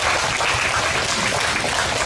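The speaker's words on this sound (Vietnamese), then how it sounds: "Chúng ta cùng hân hoan chào nhau một tràng pháo tay thật lớn lên." Applause from a crowd gathered at an outdoor parish charity event, heard as a steady dense wash of clapping with no voices over it for the whole stretch.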